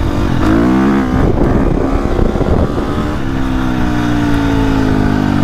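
A 2025 KTM 350XCF dirt bike accelerates hard in third gear, its engine revving up in a loud rising whine, easing briefly, then climbing again, close by.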